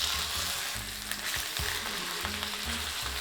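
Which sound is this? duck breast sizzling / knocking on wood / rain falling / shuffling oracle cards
duck breast sizzling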